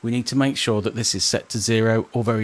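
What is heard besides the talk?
None of the usual background noises is heard.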